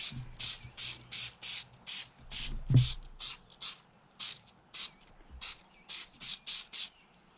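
An aerosol spray can hisses in a quick series of short, evenly spaced bursts, close up and fairly quiet, with a faint knock partway through.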